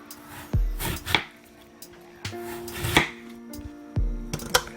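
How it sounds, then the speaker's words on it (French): A knife cuts vegetables into thin strips for kimchi during a cooking session in Bonghwa, Korea. Crisp, close, fairly loud chops land on a board in an irregular rhythm, about five or six strikes. "Après, on va faire découper en lamelles."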